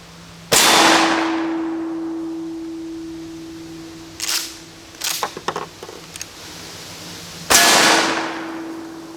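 Three loud 12 gauge shotgun blasts firing Aguila mini-slugs, each with a long decaying boom and a steel target ringing on afterward, with quieter clanks and clicks between the first two shots.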